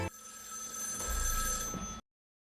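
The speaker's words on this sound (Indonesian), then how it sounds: "percakapan kemudian terhenti karena bunyi dari telepon" A telephone bell rings steadily for about two seconds, loud and close, with a bright sustained metallic tone, then cuts off abruptly into silence.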